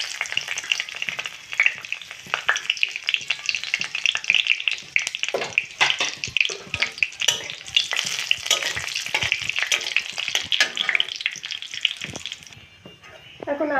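Dried chillies and cumin sizzle and crackle in hot oil for potato frying, a dense, steady frying hiss with occasional stirring clatter, close and fairly loud, without speech.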